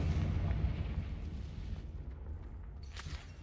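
A Confringo fire spell bursts in a Harry Potter video game, a loud, deep rumbling explosion that fills the moment and then slowly fades.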